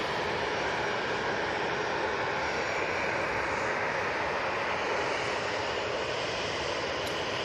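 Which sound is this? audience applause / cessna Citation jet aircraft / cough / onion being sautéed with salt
cessna Citation jet aircraft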